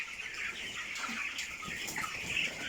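Broiler chickens about three weeks old cluck and chatter on a farm, a dense, continuous flock murmur at moderate distance with scattered sharper calls.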